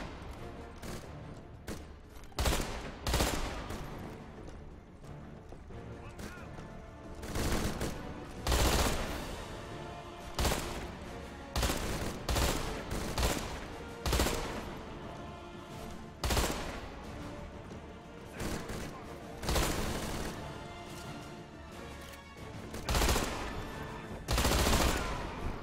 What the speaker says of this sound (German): ich wollte nur gucken, wie man messert, und dann habe ich aus Versehen Schießen gedrückt